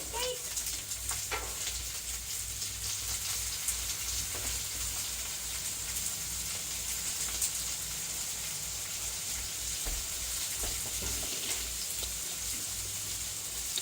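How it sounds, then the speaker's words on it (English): Steak sizzling and frying in a home kitchen pan, a steady hiss throughout with occasional stirring or flipping clatter and faint background voices. "Flip the steak."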